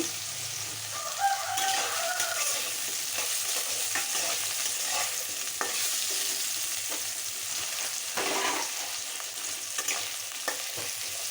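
Potato pieces frying in a pan among vegetables for a jackfruit-seed curry: a continuous hiss of frying with occasional stirring scrapes, while a rooster crows faintly in the background early on, with no talking.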